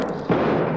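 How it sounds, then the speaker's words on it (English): A grenade launcher shot in the video game Escape from Tarkov, a single muffled distant thump rising out of a low ambient rumble. "Someone just fired a shot off the grenade launcher."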